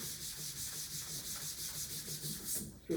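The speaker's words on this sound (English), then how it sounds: "And you sand out with that 320, and I'm telling you, it can be pimply and rough" 320-grit sandpaper rubs over a fabric-covered aircraft surface with a dry, steady rasp of back-and-forth strokes, close and continuous with no voices.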